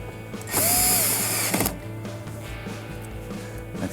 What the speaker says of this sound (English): And we'll go ahead and put our screws in.